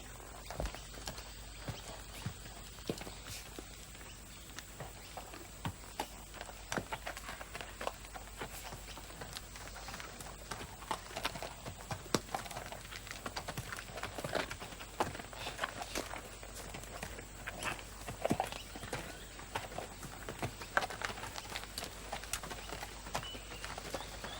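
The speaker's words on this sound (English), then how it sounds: "The coacher horse, of course, lends a stabilizing influence, and he assumes the role of teacher when moving her quietly and smoothly round the yard." Horses walking quietly around a yard, one an older coacher horse steadying a younger mare, with soft, irregular hoof clip-clops and footfalls throughout, low and fairly distant under steady background hiss.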